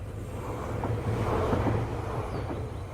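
A Class 700 electric train with digital ETCS signalling runs along steadily, a broad low rumble and rolling hum with some wind buffeting, fairly close and continuous without speech.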